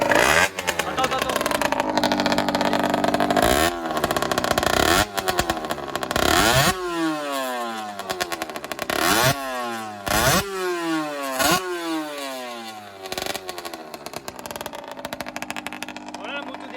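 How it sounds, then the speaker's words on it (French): Cold Beta 70 Pro Race 2020 motorcycle engine running after a start, with loud repeated revs that rise and fall in steady sweeps throughout, close by under a near-constant buzzy drone. "Voilà, la moto démarrée, elle fait une chicha carrément"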